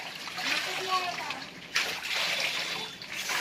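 Cloth being washed by hand in a tub of dirty water, close sloshing and splashing with wet dripping, continuing under people talking.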